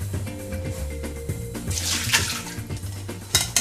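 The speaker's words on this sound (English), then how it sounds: "pouring boiling water over the bean sprouts and sugar snaps, and then immersing them in iced water" Boiling water pouring from a kettle over bean sprouts and sugar snap peas in a kitchen, a steady splashing stream that swells and gurgles for a few seconds.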